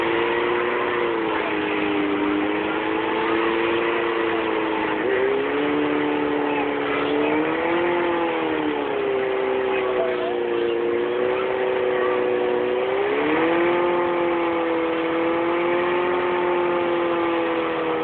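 A rock crawler truck engine at the Carlisle truck show drones loudly and steadily, with the pitch rising and falling in several smooth revving swells over a continuous mechanical hum; no talking is audible.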